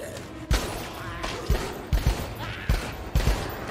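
Gunshots in the Dead Rising 4 video game ring out as a series of sharp, punchy bangs at irregular intervals, about seven shots, over a busy game background.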